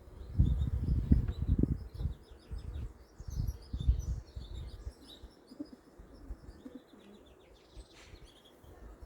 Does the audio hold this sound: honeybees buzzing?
yes